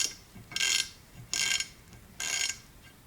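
Hand ratchet loosening a fastener, three bursts of rapid clicking, each lasting about a quarter second, close and clear with short pauses between strokes.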